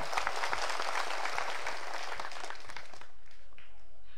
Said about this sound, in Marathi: माझी तुम्हाला विनंती आहे यांच्यासाठी टाळ्या वाजून यांचं अभिनंदन करा.